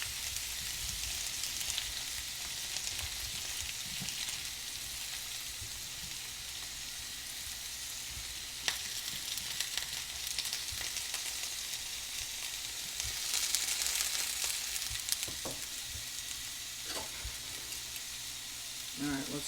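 Steak and diced potatoes frying in a pan over high heat, a continuous bright sizzle with scattered pops and crackles and occasional stirring scrapes, close and steady throughout.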